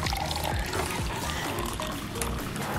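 Cream pours into a quarter-cup measuring cup, giving a short, steady liquid stream that sits close and fairly loud against background noise.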